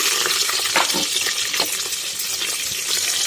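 Chopped onion and green chilies sizzle in hot oil with garlic inside a pressure cooker, a loud and steady hiss heard close with a few stirring clatters.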